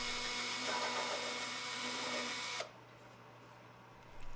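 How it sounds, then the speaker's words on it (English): A drill bores a pilot hole for a screw eye in the wood body of a single-string psalmodikon, a steady close whirring that runs about two and a half seconds, then cuts off into quiet room tone. "I'll also drill the pilot hole for the screw eye."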